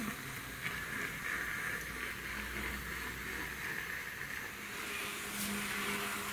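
A Märklin Z scale 232-TC-405 model locomotive runs at three-quarter power, giving off a continuous faint motor whir and hum with no breaks.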